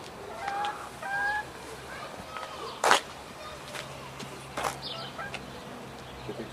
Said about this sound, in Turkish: Tavuk horoz.